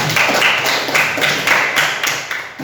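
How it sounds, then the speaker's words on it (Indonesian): A class in an Indonesian school lesson claps in unison. The crisp claps come close and loud in a quick, patterned rhythm of about eight beats over under three seconds. "beri tepuk tangan"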